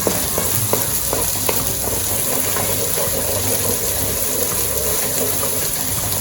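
Tomato paste frying in a pot for jollof rice, a loud, dense, continuous sizzle and crackle with faint stirring, close up and steady throughout.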